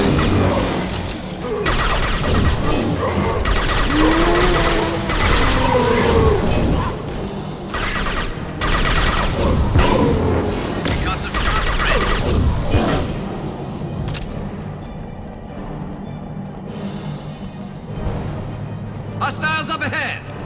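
Sustained gunfire and booming blasts in the sci-fi shooter Mass Effect 2, with a dense, continuous battle roar and rapid shots, loud and close, and voices calling out between the bursts.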